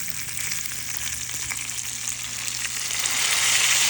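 Burger patty frying on a hot flat-top with mushrooms, onions and garlic worked in around it, a steady dense sizzle that swells louder toward the end, with faint scraping and a low hum beneath.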